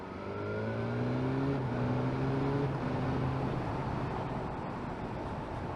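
A BMW S1000R sport motorcycle ridden in dynamic mode gives a loud engine roar that climbs through the revs and drops at gear changes, with steady wind rush throughout.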